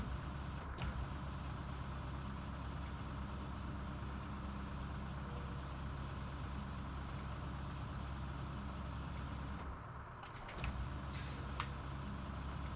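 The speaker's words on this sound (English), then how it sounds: "Why would you back up a trailer when you can just drag it?" A heavy truck engine rumbles steadily in SnowRunner as it drags a trailer, with a brief hiss and clunk near the end.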